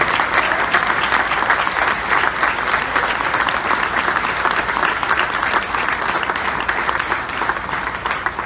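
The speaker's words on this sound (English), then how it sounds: "A round of applause for all of our alumni here" Alumni receive a steady, full round of applause from the audience at a Hall of Fame induction ceremony, dense clapping sustained at even loudness from start to finish with no talking.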